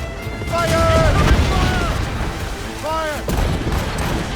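Heavy ship cannon fire rumbles in Assassin's Creed Rogue naval combat, a dense continuous barrage of booms with crew voices shouting over it.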